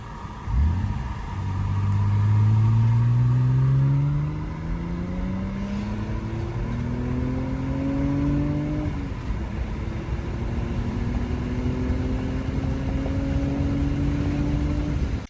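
An Audi Avant wagon's engine runs steadily after basic maintenance, a continuous close rumble with tones that slowly rise and shift, and no one talks over it.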